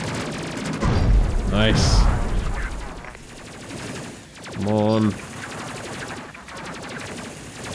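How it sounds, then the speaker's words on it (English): Sci-fi plasma cannons fire in the space video game Space Crew, with two loud bursts of rapid gunfire-like blasts mixed with game effects, while a player speaks briefly over the action. "I have to say, I love the sound of the plasma cannons."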